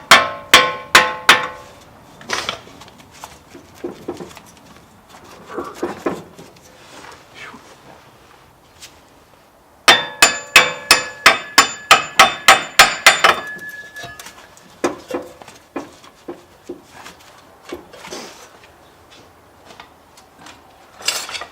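Sharp metallic hammer taps on a front wheel bearing of a 2008 Honda Civic, struck close up in quick bursts of strikes separated by quieter handling clatter and short pauses.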